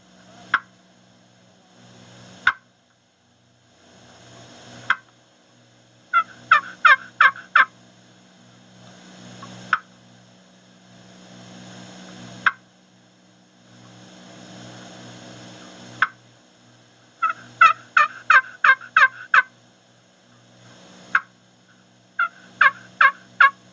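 Soft clucks and yelps worked on a box call to imitate a turkey hen: single sharp clucks spaced apart, then short rhythmic bursts of yelps, close and clear with no talking.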